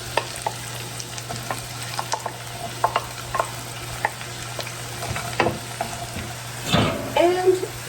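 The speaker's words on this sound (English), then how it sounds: "once the butter's melted, we're going to put in the onions," Onions and peppers fry in melted butter for old-fashioned stewed tomatoes, giving a steady close sizzle broken by scraping stirs and utensil knocks, which grow busier toward the end.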